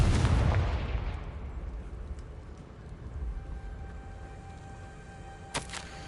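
A Confringo blasting spell explosion in the video game Hogwarts Legacy bursts loud at the start, then fades into a long rumbling decay, with a brief sharp crack near the end.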